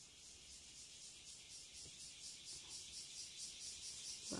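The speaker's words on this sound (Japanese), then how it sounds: "またセミが鳴き出しましたね。" Cicadas droning in the early morning before six, a steady, faint, pulsing high buzz that continues throughout with no other prominent sounds.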